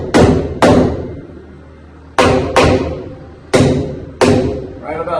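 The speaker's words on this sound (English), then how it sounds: "now I'm just going to tap over this plate" Five sharp hammer blows strike a wooden top plate, knocking it into place while a basement wall is framed, landing in two close pairs and a final single hit, loud and near, with ringing decay in a quiet room.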